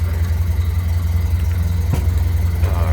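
A 1929 Ford Model AA truck engine idles just after starting, a steady loud low rumble with a close mechanical throb and no voices.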